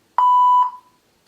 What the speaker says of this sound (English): They're just beeping out names